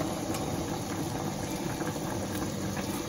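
Rasgulla simmer in a pot of syrup on medium-high heat, a steady close bubbling and gentle popping that continues evenly throughout without any talk.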